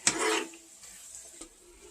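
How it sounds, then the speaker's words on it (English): Spoon stirring chopped onions into chicken in a skillet, a short scraping swish with light sizzling and a brief clink, close and moderately loud. "We're going to add 2 chopped onions. Mix those in."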